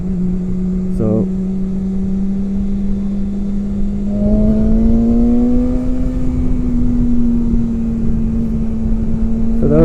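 A BMW S1000XR motorcycle in dynamic mode hums steadily under riding wind noise, its pitch rising gently as it accelerates, with brief blips in between.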